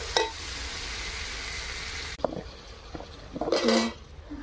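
Potatoes dropped into a hot frying pan in a home kitchen, giving a steady loud sizzle with clinks of a metal utensil against the pan, and a burst of stirring and scraping near the end.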